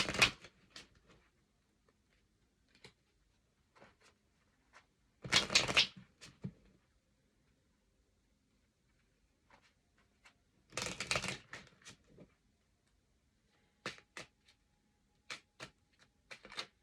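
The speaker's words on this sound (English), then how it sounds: "I'm going to take an oracle card from the When My Soul Whispered Oracle deck" An oracle card deck is shuffled in three separate riffling bursts, with soft taps and card handling between them, close by in an otherwise quiet room.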